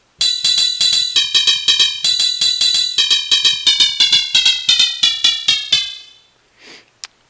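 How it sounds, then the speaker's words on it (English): Synthesized bell tones from an Elektron Model:Cycles with the Odd Quarks sound pack, a rapid run of bright ringing hits alternating high and low pitches, then a faint swell and one last short ting. "Sort of a bell tone. So ting high, ting low."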